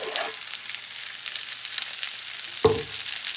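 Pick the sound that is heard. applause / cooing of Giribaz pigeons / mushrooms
mushrooms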